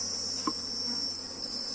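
Honey bees in a crowded nucleus hive make a steady, close, high-pitched drone that stays even throughout, with one brief faint knock.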